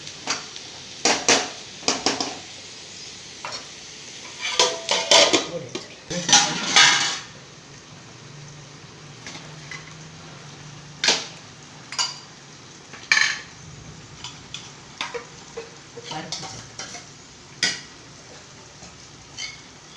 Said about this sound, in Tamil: அந்த எண்ணெயிலேயே நல்லா முருகலாக கிண்டி கிண்டி விட்டு